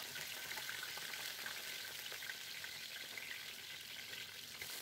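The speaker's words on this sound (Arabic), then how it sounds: "هنبتدي بقى نقلي البتنجان." Eggplant slices fry in hot oil with a steady, dense sizzle that holds at an even level throughout, with no voices.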